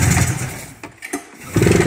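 A Honda CR500 motorcycle engine is being started. It catches and sputters briefly, dips into a short gap of uneven pops, then fires back into a loud, close running roar.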